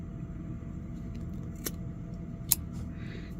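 Scissors snip through tutu fabric for a no-sew Halloween tutu, two quick, faint cuts over a low room hum.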